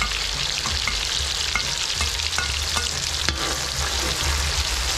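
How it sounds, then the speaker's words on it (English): Onion, pepper and ginger fry in hot oil with a steady, loud sizzle, punctuated by small pops and crackles throughout, with no talking. "the oil hot. Time to put in some onion, pepper, and some ginger."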